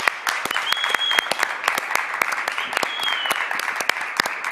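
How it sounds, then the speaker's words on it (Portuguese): A crowd claps enthusiastically at the close of the Supercopa Desimpedidos 2021 football event, dense sharp hand claps continuing for several seconds with cheering and whistles mixed in. "Muito aplauso"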